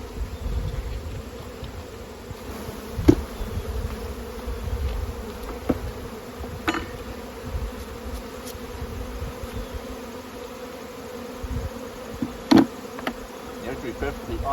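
Honey bees swarm over exposed honeycomb during a bee-vacuum test, their steady buzzing hum filling the scene continuously with a few louder close passes.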